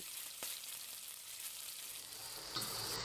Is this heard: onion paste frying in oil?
yes